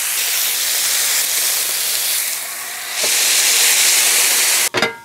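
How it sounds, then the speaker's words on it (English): Bacon sizzles loudly on a Chud Press griddle, a steady close hiss of fat that swells partway through, then a brief clatter and knock near the end; no talking. "Gotta love some pressed bacon, I tell ya."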